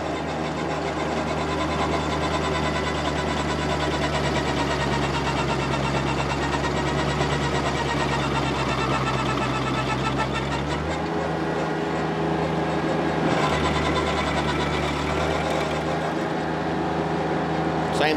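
Small tractor PTO-driven stump grinder chewing into a stump while clearing a lot, a loud, continuous mechanical grinding roar over a steady low engine drone, with a brief dip in the drone partway through.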